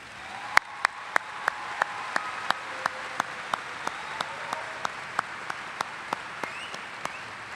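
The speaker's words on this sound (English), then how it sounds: "I'd like all of you to give them a round of applause" Audience applause for faculty and staff at the Augusta State spring 2012 commencement ceremony: a steady wash of crowd clapping with a regular, sharp clap popping out about three times a second.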